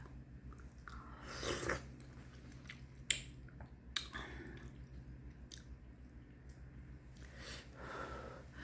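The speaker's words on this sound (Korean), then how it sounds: "맛있는데 밥 말아서 먹으면 맛있어요" Rice mixed into soup being chewed up close, with moist squishy mouth sounds and a couple of sharp clicks over a low steady background.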